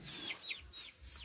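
Backyard hens cluck in a short series of rising, chattering calls, close by and fairly quiet, with no one speaking.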